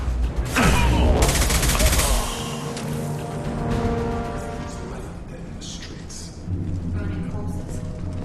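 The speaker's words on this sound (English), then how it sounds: "Taking heavy fire!" Heavy gunfire in Mass Effect 2 on Xbox 360: a loud, dense burst of shots and booms opening the passage, then a lower rumble of continued firing and mechanical noise under background game sound.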